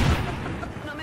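A single gunshot in XCOM 2, a deep booming report right at the start that decays into a rumbling tail, with speech overlapping.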